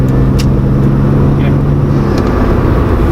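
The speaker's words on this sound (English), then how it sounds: "I give it about" A Toyota Supra twin-turbo automatic on light throttle for a merge gives a steady low engine and road drone from inside the cabin, running continuously under a man's speech.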